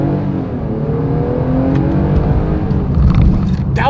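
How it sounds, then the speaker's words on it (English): A 2025 Nissan Pathfinder accelerates hard in manual shift mode, its engine note climbing loud and steady with rising harmonic sweeps over road and wind noise, a brief quieter dip near the end as a gear changes. "let's see how quickly we can get this one here up to speed"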